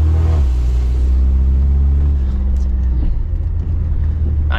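A Mercedes 190E driving, heard as a loud, close, low engine rumble with pitch shifts as it accelerates and changes gear.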